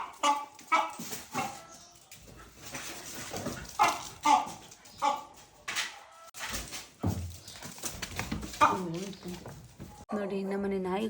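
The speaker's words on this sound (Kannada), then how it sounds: "ನಮ್ಮ ಪಕ್ಕದ ಮನೆ ಕೋಳಿ ನಮ್ಮ ಮನೆಗೆ ಬಂದಿದೆ, ಹಾಗಾಗಿ ನಮ್ಮ ನಾಯಿಗಳು ಹಿಡಿತಿದೆ ಓಡಿಸಾಡ್ಕೊಂಡು" Several house dogs barking and yipping while chasing a neighbour's chicken around the yard, a series of sharp, irregular barks of mixed loudness across the clip, with whimpering in between.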